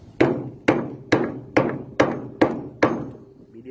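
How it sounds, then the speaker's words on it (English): A hammer strikes a homemade metal fishing anchor seven times in a steady, even rhythm, each blow sharp and ringing briefly, close by with no talking. "You take a hammer,"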